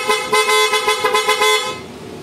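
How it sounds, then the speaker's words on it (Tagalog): A PIAA Oto Style dual-tone horn, 400 and 500 Hz high and low tones, fitted to a Suzuki Jimny, sounds one loud, close, sustained blast with a slight pulsing warble before cutting off, leaving faint background noise. "So ito po ang kinabit natin, PIAA Auto Style horn."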